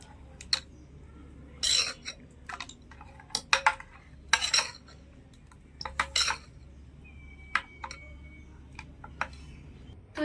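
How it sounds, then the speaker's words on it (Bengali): Semolina being stirred with water and salt in a bowl, a series of sharp clinks and scrapes of a spoon against the bowl in irregular bursts, close by, with quiet pauses between them. "জলটা দিয়ে খুব ভালোভাবে নেড়ে ছেড়ে মিশিয়ে নিয়েছি"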